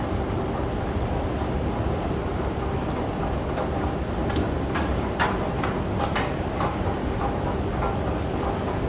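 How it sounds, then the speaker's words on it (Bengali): Inside a Dubai Metro railway station, a steady low rumble of machinery and ambient hum fills the space, with scattered faint clicks and footstep-like taps and no clear voices. "মানে খুব সুন্দর মেট্রো স্টেশন"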